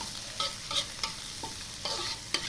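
Tomatoes, spring onion and shallots stir-fried until wilted, a continuous sizzle broken by repeated scraping and tossing strokes of a spatula against the pan, close and fairly loud.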